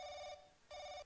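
Telephone in The Crooked Man rings in two bright electronic bursts separated by a short gap, clear and fairly quiet with no voices.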